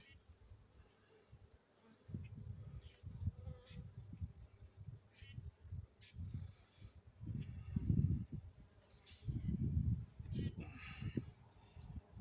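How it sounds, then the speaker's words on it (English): Close, low buzzing of honeybees around a hive that swells and drops in uneven bursts, with a voice faintly heard now and then. "These aren't mean bees."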